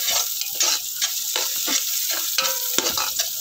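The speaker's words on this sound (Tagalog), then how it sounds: "gigisa tayo ng sibuyas, bawang para sa ating lumi" Onion and garlic sautéing for lomi, a loud close sizzle broken by frequent stirring scrapes and a sharp utensil knock against the pan.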